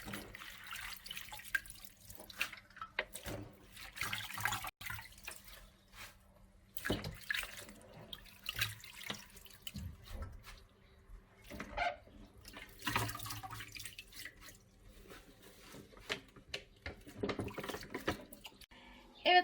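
Spinach being washed under a running kitchen tap, with intermittent splashing, dripping and rinsing water, and a voice speaking at times over it.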